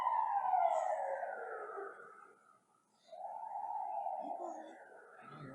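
Sirens wail faintly at a distance, two long sweeping tones falling in pitch with a short gap between them, no talk over them.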